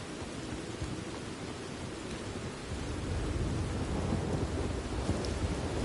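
Heavy rain and a thunderstorm in Red Dead Redemption 2: a steady hiss of downpour with deep rumbling thunder that swells and grows louder partway through, with no voices.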